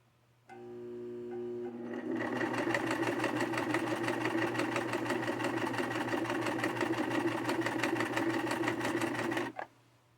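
A Brother VX-1100 sewing machine whirs into a fast, steady stitching run for several seconds, then stops abruptly; a faint low hum sits underneath throughout.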